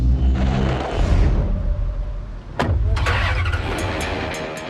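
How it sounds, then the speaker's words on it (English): V8 engine of a Mexican federal police car, a loud continuous rumble that swells, dips briefly, then surges back with a sharp rev, heard close and without talk. "it makes up for the extra weight by packing a V8 engine that can comfortably do 170 miles an hour"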